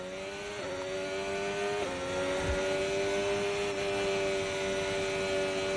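A McLaren Formula 1 car engine in the F1 25 racing game holds a loud, sustained high-pitched whine with slight pitch shifts, close and alone without speech.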